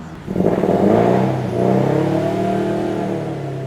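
A car engine revs up loudly and close by, then holds a steady, rumbling drone as the revs settle.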